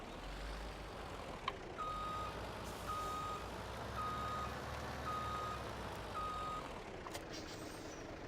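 Reversing alarm on a truck in Farming Simulator 17, a steady series of evenly spaced beeps at moderate level, repeating about once a second over a continuous low engine rumble and ambient game noise.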